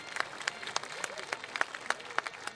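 A crowd at an outdoor political campaign rally gives scattered, fairly faint clapping, a thin patter of individual claps spread over a couple of seconds.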